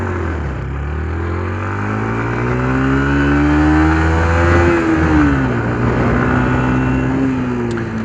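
Motorcycle engine revving as the rider pulls away from a stop: a loud, close motor whose pitch climbs, peaks, then settles into a steady drone, with no talking.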